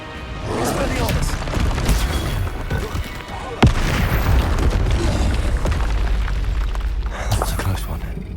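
Repeated magical spell blasts and impacts in the Hogwarts Legacy PC game, a loud dense barrage of booming bursts with one sharp crack partway through, continuing without pause.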